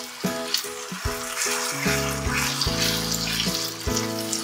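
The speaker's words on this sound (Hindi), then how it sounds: "ये हमारा मसाला अच्छे से भून चुका है, इसको हमने 4-5 मिनट भून लिया।" Masala spices frying in oil in a pan for fish curry give a soft, steady sizzle partly buried under loud melodic background music, with no talking.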